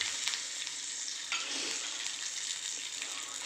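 Cumin seeds and curry leaves sizzling in hot oil after mustard seeds pop, a dense, hissing crackle that stays steady and fairly quiet, with no voices.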